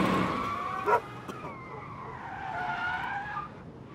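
Car in the Life is Strange video game speeding and skidding, a sharp tire squeal rising and sliding in pitch over an engine roar, with a brief thump near the start, loud and close.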